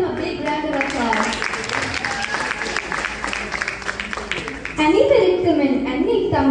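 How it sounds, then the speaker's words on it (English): Audience applause at a karaoke night, a broad wash of clapping and crowd noise that continues steadily, with a voice starting to speak over it near the end. "Everyone give him a big round of applause."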